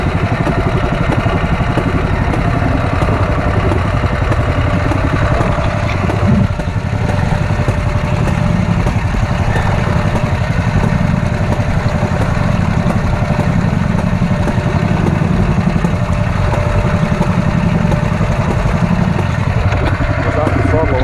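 An engine idles steadily and close on gravel, a continuous mid-pitched rumble that rises slightly as the throttle is nudged up, with no pauses across the whole stretch.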